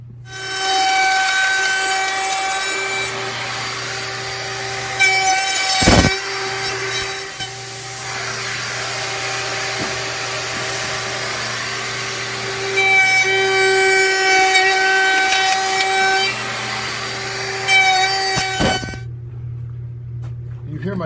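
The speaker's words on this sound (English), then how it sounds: "I finally set up a little jig here to do the routing with" A wood router whines steadily while cutting cedar, with a humming vacuum and air cleaner running underneath and a brief sharp knock partway through; it stops abruptly near the end.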